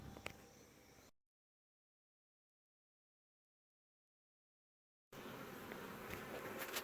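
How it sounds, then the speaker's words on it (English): Honeybees in a hive under a cut-out floor give a dense, steady buzzing hum that breaks off into silence for several seconds, then returns loud and close. "there are bees right there, and there's some comb right there too"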